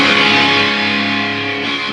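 Distorted electric guitar played with the reverb switched off, a dense sustained chord ringing dry and loud for about two seconds, slowly fading.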